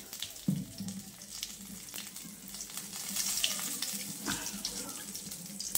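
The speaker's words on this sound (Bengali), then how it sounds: "তেল কড়ার মধ্যে তেল দিয়েছে, 5 ফোড়ন আর তেজপাতা দিয়েছে" Five-spice and a bay leaf sizzle in hot oil in a wok, a faint, steady hiss with a few crackles and clinks, heard close and without speech.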